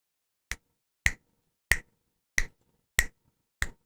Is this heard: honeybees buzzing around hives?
no